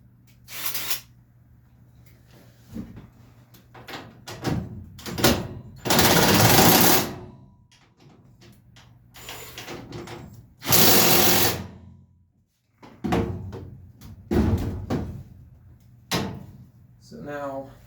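A power socket driver backing lag bolts out of a garage door opener head, several bursts of loud mechanical whirring and ratcheting separated by pauses and handling clatter, with occasional talk.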